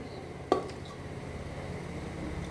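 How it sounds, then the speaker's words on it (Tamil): A metal kadai pan set down on a stove, giving one short clunk near the start, then quiet kitchen background. "அடுப்பை பற்ற வச்சு கடாயை அடுப்பில் வைப்போம்"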